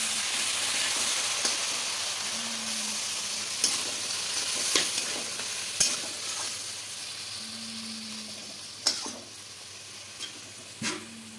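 Frying taro stolons and prawn masala hiss and sizzle as a little water hits the hot pan, with a steady steamy crackle, occasional scraping stir strokes and clinks of a spoon against the pan.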